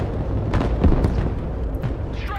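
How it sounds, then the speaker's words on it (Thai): Artillery shells landing in the Broken Arrow war game, a rumbling series of several booming impacts layered over continuous low battlefield noise. "ปืนใหญ่ปืนใหญ่ถล่มไปตรงนี้"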